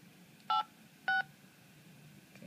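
Two short dialing tones beep as a number is called on a SocBlue device, evenly spaced and clear above a quiet room hum.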